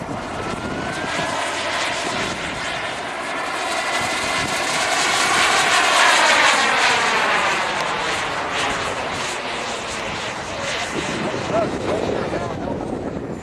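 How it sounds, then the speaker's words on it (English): A model jet airplane flies at an air show demo, its turbine whine loud and sustained, swelling as it passes nearby and fading slightly afterward, while a commentator talks over it. "as you hear, the engine sounds exactly like the full-scale."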